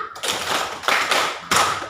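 Hand claps in a school classroom counting game: three short bursts of sharp, close clapping separated by brief pauses, each burst a quick cluster of claps from a group.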